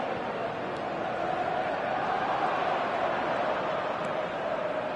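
A steady, dense roar of a stadium crowd in the eFootball video game, an even wash of distant cheering and murmur with no distinct breaks, running continuously throughout.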